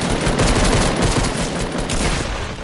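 A loud, continuous burst of rapid gunfire from a Fortnite match rattles close up for a couple of seconds, alone and unbroken by speech.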